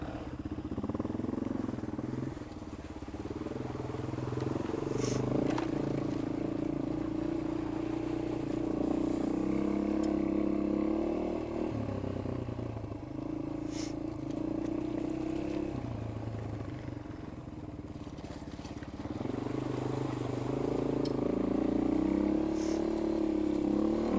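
A Yamaha XT225 dual-sport motorcycle rides a rough public dirt road of soft sandy gravel in Alabama or Tennessee, its single-cylinder engine droning close and steady, easing off briefly in the middle before pulling again, with occasional clatter from the bike.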